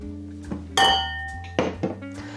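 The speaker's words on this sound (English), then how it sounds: "Then we will put our lid on the top with the measuring cup." A metal lid and a measuring cup are set onto a cooking pot for an Indian takeaway dish, giving a bright ringing clink followed by a couple of duller knocks over a low steady appliance hum.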